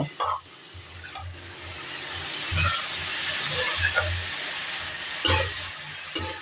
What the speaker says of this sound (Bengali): এবার একটু ফ্লেমটাকে বাড়িয়ে দিলাম আমি, বাড়িয়ে দিয়ে এটাকে সুন্দর করে নাড়াচাড়া করব